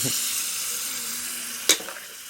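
Broth from boiling pork is poured into a pan of Thai sweet pork, giving a steady hissing sizzle that swells with a sharp splash and burst of steam near the end, close and moderately loud.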